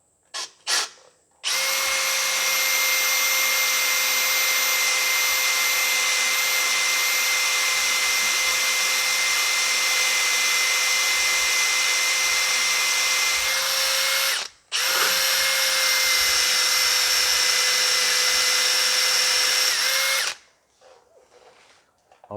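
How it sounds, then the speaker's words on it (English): A power drill bores a hole in a John Deere 1640 tractor while a pipe retaining kit is fitted, running as a loud steady whine for about thirteen seconds, stopping briefly, then whining again for several more seconds. "I'll come back once I've got the hole drilled"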